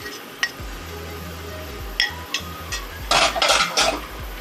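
Chocolate cake batter with flour is stirred in a bowl, with scattered spoon clinks and taps, then a short burst of rapid scraping near the end.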